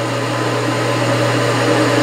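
Milling machine cutting with a 4-flute TiN-coated high-speed steel end mill, a steady loud motor whine and hum with a faint rhythmic cutting chatter, continuous and close, with no talking.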